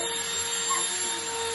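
A vacuum cleaner drones steadily with a constant motor whine throughout, close and fairly loud, with no voices heard.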